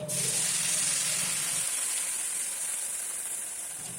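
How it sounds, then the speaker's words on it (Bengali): Water is poured into a pan of fried spices for a small-fish curry. It sets off a sharp, loud burst of sizzling and steam that fades into a steady hiss. "এবার দিয়ে দিচ্ছি এর মধ্যে পরিমাণ মতো জল"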